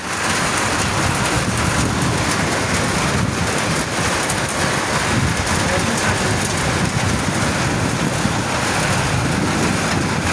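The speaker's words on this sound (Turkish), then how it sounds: "Yağmurdan dolu yağıyor." Heavy rain and hail pound a surface in a dense, constant roar, loud and close, with no break throughout.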